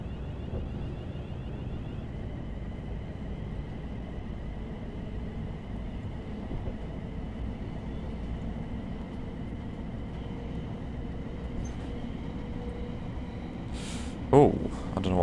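Class 700 electric train running in a train-driving video game, a steady low rumble and hum with a faint tonal whine, continuous and close, ending in a short clatter.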